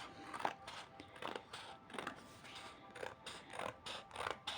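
Quiet, steady snipping as scissors cut through paper, about eight crisp cuts in an even rhythm.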